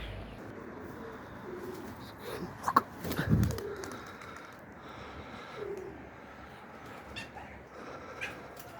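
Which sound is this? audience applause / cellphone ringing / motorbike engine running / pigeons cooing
pigeons cooing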